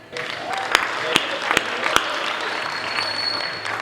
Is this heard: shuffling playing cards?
no